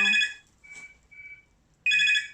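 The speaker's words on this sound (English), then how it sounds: "what a good timing to receive a phone call in the middle of filming" An incoming phone call rings in a room where houseplants are being unboxed: a bright electronic ringtone plays loudly, breaks into softer tones, then starts its melody again, with no talking.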